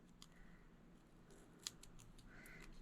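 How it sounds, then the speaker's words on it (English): Faint snips of scissors cutting through paper, a few sharp clicks spaced unevenly against a quiet background. "I'm just going to come through with some scissors"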